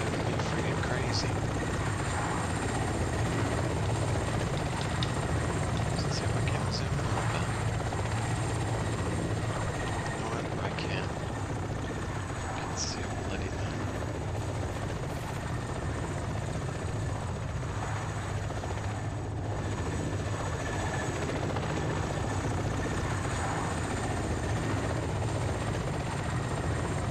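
Continuous helicopter rotor thump and turbine whine from a helicopter flying in the video game ArmA, sustained and fairly loud, with faint voices occasionally under it.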